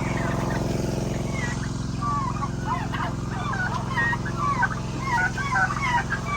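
A flock of turkeys gobbles in rapid, overlapping bursts over a steady engine-like rumble, moderately close and continuous.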